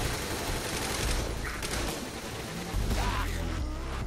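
Rapid gunfire from a Saints Row 3 horde-mode fight, a dense continuous rattle of shots with no clear gaps, fairly loud and steady, with faint voices in the background.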